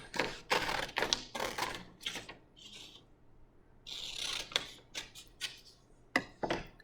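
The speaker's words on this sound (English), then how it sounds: "now I'm gonna use my handy dandy scissors to cut that out" Handy scissors cut paper along ruled straight lines in short, quiet snips and rustles, with a few brief pauses between bursts of cutting.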